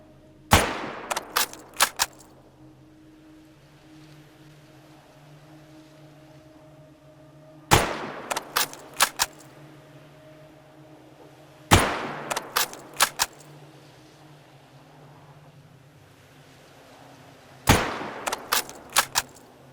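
Gunfire in the video game S.T.A.L.K.E.R.: Anomaly, four loud bursts of several sharp shots each, spaced a few seconds apart over a low steady background hum.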